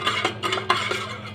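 Small metal spoon clinking against a dish while adding sugar to pickle brine for cucumbers and eggplant, several quick close taps and scrapes over about a second.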